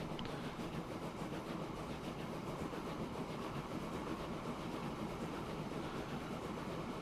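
An export train in Transport Fever 2 rumbles along the tracks with a steady, even roar and faint rhythmic clatter, continuous and unchanging throughout with no voices.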